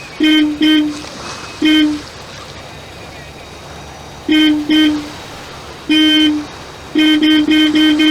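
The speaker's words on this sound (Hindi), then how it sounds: "हॉर्न बजाओ" A car horn honks repeatedly in short bursts, first a few single toots, then a doubled pair and a longer one, ending in a rapid string of beeps, loud and close against a quiet background.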